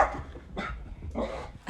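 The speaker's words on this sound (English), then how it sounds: "You're going to hear my dog barking in for a second" A dog barks indoors: three or four sharp, close barks in quick succession, loud and alone with no talk over them.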